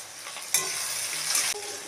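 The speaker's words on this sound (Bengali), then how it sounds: "কুচি করে রাখা টমেটোগুলো আমি দিয়ে দেবো।" Chopped tomatoes with ginger, green chilli and capsicum sizzle steadily in a hot pan for a vegetarian dish, with a sharper burst of frying as stirring scrapes through the mix, close and continuous, no talking.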